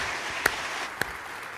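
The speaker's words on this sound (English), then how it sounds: "Let's give Charles a round of applause" Applause from faculty and staff at a college convocation, a dense patter of clapping broken by two sharp, loud claps close by.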